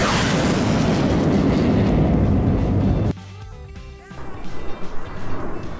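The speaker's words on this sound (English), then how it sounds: "Rocket." A rocket launch roars as a dense, loud, broadband rumble for about three seconds, then cuts off abruptly into a quieter stretch with tonal hum and uneven rumbling swells.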